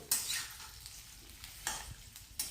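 Soft sizzling of potatoes frying in oil, punctuated by a few scraping stirs of a spoon against the pan, fairly quiet and close.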